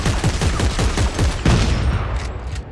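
Rapid bursts of gunfire from the video game Dead Space 3, a steady run of close, loud shots through the first half that thins out toward the end, with no talking.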